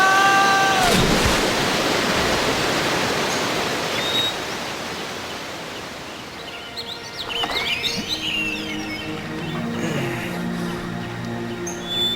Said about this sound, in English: The great waterfall!